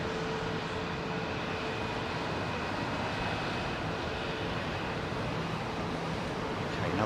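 A Boeing 767 airliner at London Heathrow gives off a steady, broad engine roar that holds at an even level throughout, with a faint tonal whine running through it.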